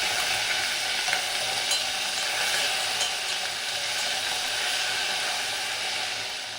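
Cumin seeds and tamarind crackle and sizzle in hot oil while sambar tempering is made, giving a steady, dense frying hiss that holds close and even throughout with no voices.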